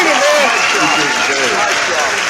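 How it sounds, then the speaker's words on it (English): A crowd gives sustained, dense applause for James Freeman at a live Miami Hurricanes fan talk show, loud and steady throughout. "Y'all give him a round of applause"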